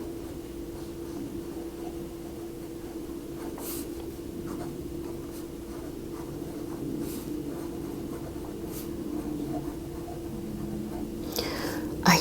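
A fountain pen with a medium steel nib writing on paper, a soft, steady scratchy glide that runs continuously and close, with a couple of faint louder strokes near the end.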